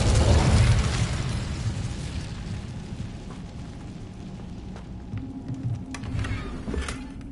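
A fiery burst from the Incendio spell in Hogwarts Legacy, a loud whooshing blast at the start that fades into a crackling rumble with scattered pops and game effects.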